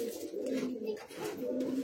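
Madrasi high flying pigeon cooing at a loft, a steady low throaty coo that repeats without a break for about two seconds, near and fairly loud.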